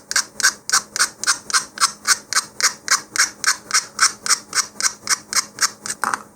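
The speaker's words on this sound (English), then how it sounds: "I'm going to take my emery board here. Alright, and I'm just going to roughen this." An emery board roughens a plastic model rocket part with steady, even rasping strokes, about three per second, close and fairly loud with no talk.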